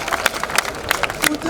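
A crowd at an outdoor campaign meeting with transport workers' unions in Edo claps in scattered, uneven bursts of hand claps, fairly close and loud, with voices talking underneath.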